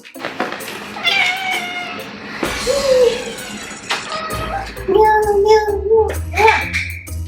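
A cat meows repeatedly, several drawn-out, wavering cries close to the microphone, with a few bumps and rustles between calls.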